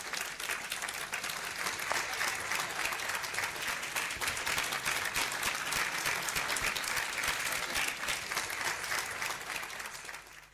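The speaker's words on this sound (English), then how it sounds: "Please let's give a round of applause for Kingdom College." A large conference audience in Enugu gives a steady, dense round of applause to a winning microfinance bank, continuous and full for ten seconds before easing slightly at the close.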